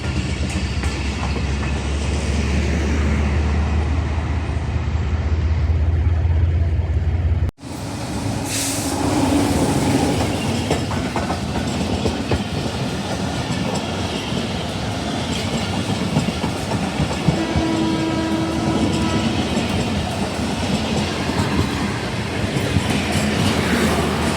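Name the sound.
Allama Iqbal Express passenger train passing at speed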